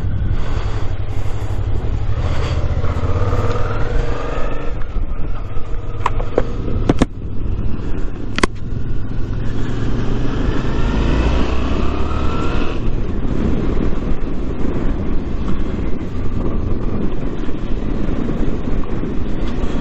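Suzuki V-Strom 650 motorcycle under way on a hot day, a continuous engine drone mixed with rushing wind noise, the pitch rising and falling with throttle, close and steady for the whole stretch.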